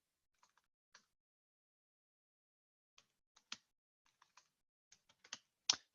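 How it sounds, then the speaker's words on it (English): Sparse keystrokes on a computer keyboard, quiet and close, come in scattered clicks with long pauses, then a quicker cluster of louder taps toward the end. "Sorry, I'm really bad at typing."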